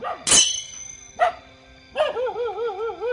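A dog barks sharply up close, a loud single bark followed by a shorter one and then a drawn-out whining howl, with no talk over it.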